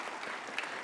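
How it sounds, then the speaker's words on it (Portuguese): A church congregation applauds a pastor's wife and daughter, a short steady burst of clapping that sounds fairly distant and even. "uma salva de palmas"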